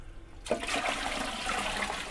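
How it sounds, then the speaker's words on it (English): A household toilet tank flushes with a sudden rushing gush of water that begins abruptly and stays loud and steady close by, with no voices. "you flush a toilet tank, you're probably flushing 3 gallons at a shot"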